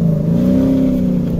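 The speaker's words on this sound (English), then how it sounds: "A little bit of drift action there." Car engine holding a steady, loud, throaty rev while drifting, heard close and continuous for a brief moment.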